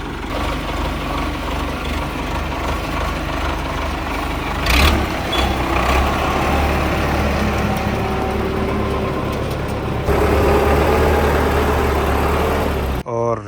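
A loud, rough tractor engine runs continuously without a silencer, with a harsh unmuffled rumble that holds steady throughout, briefly surging midway and again near the end.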